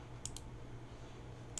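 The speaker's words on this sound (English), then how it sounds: "you could probably hear in the mic, you could probably hear me clicking" Mouse clicks from a computer during a Pokemon TCG Online match: two quick clicks close together near the start, then another near the end, faint and close over a low steady hum, no talking.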